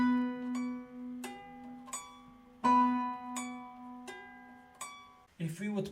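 Acoustic guitar playing a passage with the X-marked notes left out, plucked notes ringing in a slow, spaced pattern over a sustained drone, ending in a quick flurry.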